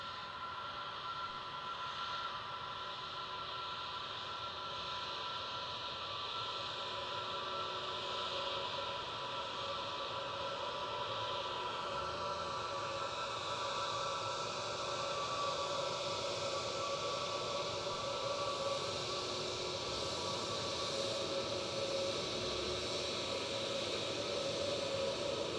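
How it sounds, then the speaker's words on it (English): Boeing 787 Dreamliner airliner at Edinburgh Airport, a distant, steady jet engine roar with a broad hiss and sustained tonal whine that swells slightly over about twenty-five seconds, with no talking. "Ooh, Dreamliner."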